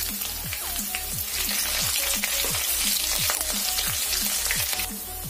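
Bay leaves, cumin seeds and chopped green chilies sizzle steadily in a spoonful of hot oil, a dense close frying crackle with repeated soft ticks and pops throughout, no voices.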